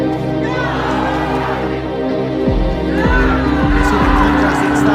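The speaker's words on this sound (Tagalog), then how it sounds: "It's the crowd." A boxing crowd roars loudly and continuously at a fight between a Filipino boxer and a Japanese opponent, with a commentator talking over the cheering.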